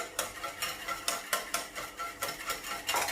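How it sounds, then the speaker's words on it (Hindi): Half a cup of oil is stirred into vanilla cake batter in a bowl, giving soft rhythmic scraping and slapping strokes at a steady pace, close and quiet with no talking. "अब हम इसमें हाफ कप ऑयल ऐड करेंगे। मिक्स करेंगे इसको भी अच्छी तरह से।"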